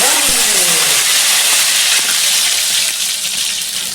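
Cumin seeds and curry leaves hit hot oil for a tuna fish curry, releasing a loud, close, rushing hiss that holds steady and eases only slightly over a few seconds.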